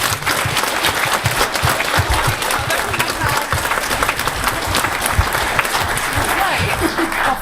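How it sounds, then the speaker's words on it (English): Sustained applause from an audience at a Board of Education meeting honoring the student school board, steady and dense throughout, with some voices mixed into the clapping. "We give them a round of applause."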